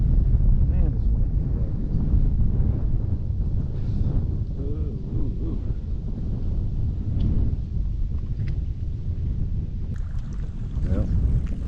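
Strong wind buffets the microphone on a fishing pier, a steady loud rushing roar with gusty swells, and people talk briefly underneath it.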